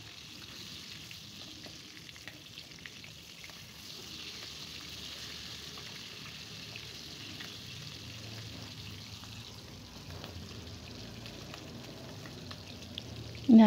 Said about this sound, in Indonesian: Kita goreng bolak-balik sampai ikannya mateng